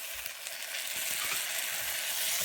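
Tomatoes dropped into onions frying in a pan for ridge gourd kuruma, a loud, dense, steady hiss of sizzling oil close up, with no voices.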